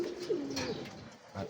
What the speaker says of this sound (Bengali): আমার খুব পছন্দের একটা কবুতর গররা, ডিমে বসছে